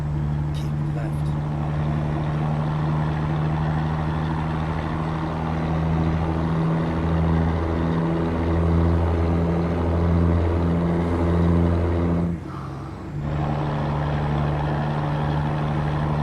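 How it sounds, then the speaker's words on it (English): Truck engine in the American Truck Simulator video game: a loud, steady, rumbling drone that swells and eases slightly over time, briefly dropping near the end before resuming. "I just love this engine sound."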